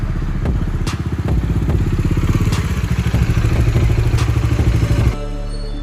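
A motorcycle engine runs close by with a steady rhythmic throb and light mechanical clatter, then drops to a softer, lower idle in the last second.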